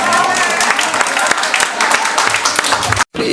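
An audience at a talk event applauding, a dense patter of clapping hands at fairly close range that cuts off abruptly near the end, with some speech mixed in.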